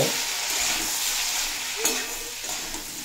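Pieces of raw banana fry in hot oil with salt, turmeric and slit green chilies, sizzling steadily up close while a utensil stirs and scrapes, with a sharp clink partway through.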